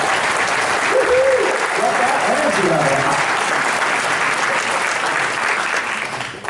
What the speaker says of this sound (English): let's have a big round of applause for all of you.